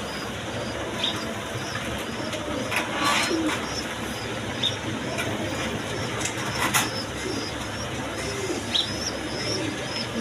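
A pair of racer pigeons coos among many birds at a pigeon seller's place, with soft, low cooing and scattered chirps over a dense, steady background hiss and rustle.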